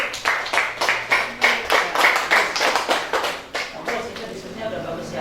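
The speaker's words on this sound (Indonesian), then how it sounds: "Ya, tepuk tangan untuk kelompok 1." A class of primary school pupils claps for a group in an elementary Islamic studies lesson, uneven hand claps running steadily under background chatter.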